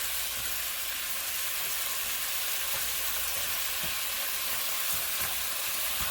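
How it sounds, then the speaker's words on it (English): Shrimp sizzle loudly and steadily in a hot pan with a continuous frying hiss, as occasional light scraping of the stir sounds beneath. "I'm gonna just give my shrimp a little stir to the side."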